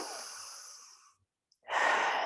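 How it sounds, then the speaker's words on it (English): Slow, deep breathing during a guided meditation: a long soft exhale fades into near silence, followed by a strong, airy inhale close to the microphone. "And then just breathing into your womb space again."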